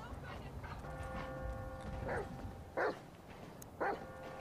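A dog in the Grand Theft Auto 5 video game gives a few short barks, spaced about a second apart, over low game background sounds.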